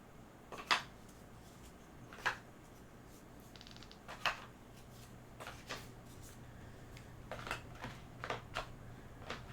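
Cards for the board game Endeavor: Deep Sea are handled and shuffled at a table, giving scattered soft riffles and snaps, quiet and close, with no talking.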